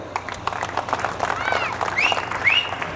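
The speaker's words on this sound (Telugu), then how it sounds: "ఈరోజు సగానికి సగం మంది స్త్రీలు ఉన్నారు, వాళ్ళందరికీ గట్టిగా చప్పట్లు కొట్టండి" A crowd at a public speech event in Pedha Godalanka claps together in a dense, fairly loud burst of applause that holds steady for the whole stretch, with a couple of faint whistles.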